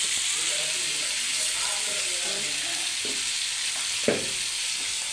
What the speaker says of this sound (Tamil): தக்காளி போட்டு நல்லா வதக்கணும். தக்காளி வதக்கிறதுக்காக உப்பு சேர்த்துக்கலாம்.